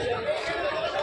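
Dense chatter from a crowd of people of all ages gathered at a railway station, many overlapping voices murmuring close by in a steady babble.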